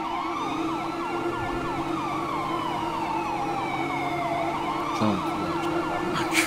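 Fire engine siren in the video game Outcast County, a wailing, sweeping siren that rises and falls continuously, with a brief burst of other game sounds near the end.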